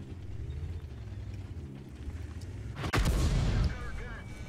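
A tank cannon round from an enemy tank strikes the player's tank in World of Tanks, landing as one sharp, loud impact crack near the end, over a low engine rumble and a faint background voice.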